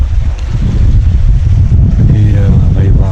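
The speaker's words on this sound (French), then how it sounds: "Il y a un petit vent ce matin, on est sous le Jamaker" Light wind rushes over a sailboat at sea in the Indian Ocean, a loud, continuous low buffeting against the microphone with faint water wash beneath.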